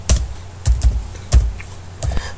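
Several keystrokes on a computer keyboard sound as sharp, close clicks in small irregular clusters, with quiet pauses between them and no talking.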